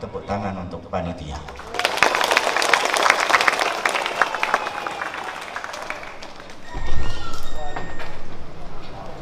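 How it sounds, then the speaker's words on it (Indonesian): An audience at the opening of a regional working meeting in an Islamic boarding school hall applauds the organizing committee: a dense burst of clapping swells for about five seconds, then fades as a voice talks before and after. "saya minta tepuk tangan untuk panitia."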